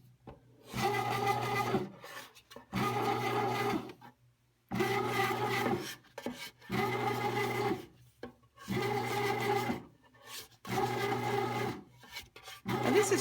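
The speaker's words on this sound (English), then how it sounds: "I'm going to get a spatula and I'm going to pull that down off the sides" Spatula scraping pizza dough off the sides of a bread machine pan while the machine kneads, a rough rasping rub in repeated bursts of about a second with short pauses between, close and steady.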